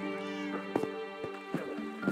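Cats in a crafting video game give a string of short, fairly quiet meows, about five evenly spaced calls over a steady tonal game hum, with no talk during them.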